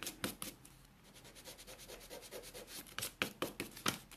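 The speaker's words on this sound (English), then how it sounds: "let's get my eraser, which is in here somewhere. Rub that out." An eraser scrubbing pencil marks off paper, quick close rubbing strokes in uneven bursts that grow sharper toward the end, quiet and without voices.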